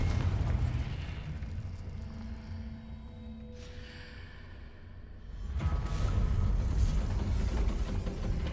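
A Confringo blasting spell going off in Hogwarts Legacy, a booming explosive burst amid ongoing game combat noise, with a second loud swell of rumbling blast near the end.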